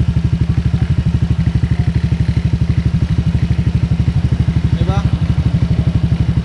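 A Honda Click 125 V3 scooter with a T4S aftermarket exhaust idles with a rapid, loud, lumpy exhaust burble, steady and close, beside a highway, with a brief voice near the end.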